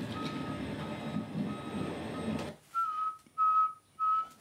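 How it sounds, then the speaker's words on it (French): A truck backing up, heard from a played recording, sounds a few evenly spaced electronic backup beeps, clear and fairly loud, after a stretch of muffled low engine rumble. "Je trouve un camion qui recule."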